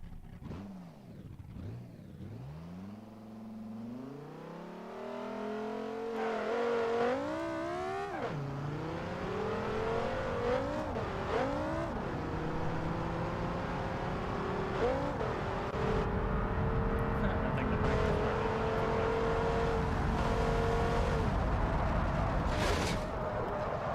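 A car engine in the BeamNG.drive driving game revs loudly and continuously, rising and falling in pitch through repeated throttle bursts with no talking over it.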